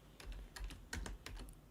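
Quick clacking keystrokes on a computer keyboard, a rapid irregular burst of typing heard close and fairly quiet.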